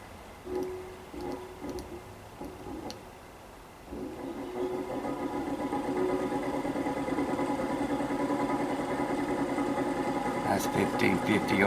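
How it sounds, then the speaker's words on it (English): An engine-driven fan hums steadily at around 1550 RPM, blowing air with a continuous mid-pitched drone. Someone talks over the opening seconds before the machine noise swells and holds. "That's 1550 RPM. Blowing some good air."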